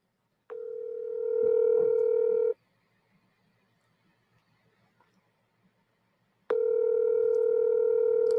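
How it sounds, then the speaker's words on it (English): A steady electronic ringback tone sounds for about two seconds, falls silent for four, then rings again; no voices. "I'm about to call you. Your phone's gonna ring."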